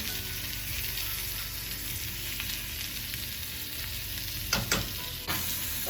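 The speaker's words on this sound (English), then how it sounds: "I just throw the mushrooms in with that and just kind of let those cook with the sausage." Sausage and mushrooms fry in a pan with a steady, close sizzle throughout, broken near the end by a few sharp clatters of stirring.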